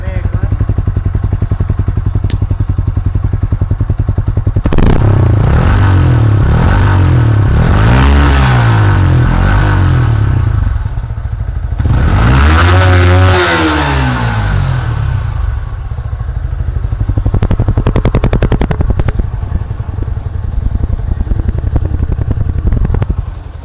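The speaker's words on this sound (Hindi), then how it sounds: "चलो इसको दबाते हैं तो आप एग्जॉस्ट नोट सुने एक बार।" Yamaha XSR 155 motorcycle starting via its self-start button, then the single engine's exhaust note revving in several rising and falling bursts between steady idle, loud and close.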